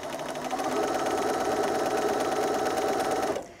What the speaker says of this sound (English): I'm stitching away from the last seam